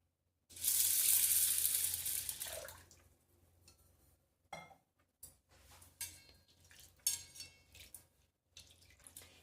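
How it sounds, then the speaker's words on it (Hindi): Water runs loudly from a tap for a couple of seconds, then softer splashing and swishing follows as toor dal lentils are rinsed in a bowl. "इनको हम अच्छे से धुल लेते हैं।"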